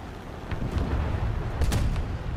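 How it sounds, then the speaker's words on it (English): A Mosquito FB fighter-bomber in the War Thunder combat game fires its machine guns, heavy low booming bursts rumbling close and loud, with a few sharper cracks rising out of the barrage. "Yeah, let's kill them with the machine guns."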